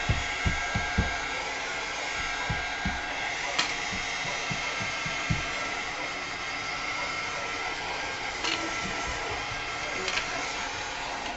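A heat tool blows steadily and loudly while drying a mixed-media junk journal cover, a constant whirring hiss with occasional light knocks underneath, and no talking.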